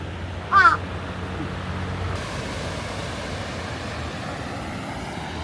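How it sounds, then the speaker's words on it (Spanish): A single crow caws once in Kyoto, Japan, short harsh calls close by, then steady outdoor ambience with a low background rumble. "Japón está lleno de pedazos de cuervos como este."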